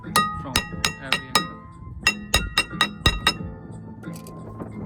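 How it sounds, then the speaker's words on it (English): A stuck car brake rotor struck repeatedly from behind with a hammer, giving a series of sharp metallic clinks in irregular bursts, close and loud. "This rotor was not coming out, so I'm hitting it from behind, turning it, hitting it from behind"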